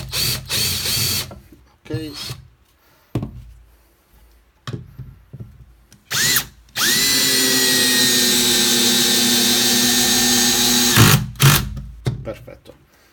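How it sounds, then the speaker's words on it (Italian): A TECCPO TDHD01P 18V cordless impact drill drives a screw into wood, with a steady, loud whirring run of several seconds after some short start-stop bursts and handling clatter. A brief spoken word is heard. "E avvitiamo questa vite su questo legno."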